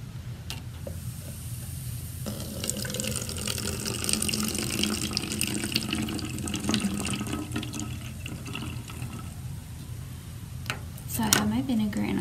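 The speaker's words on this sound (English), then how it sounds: "pour your vinegar into your plastic bottle" Vinegar gurgles and splashes as it is poured into a plastic bottle, a hissing liquid stream running for several seconds with a few bubbling glugs toward the end, and no voices.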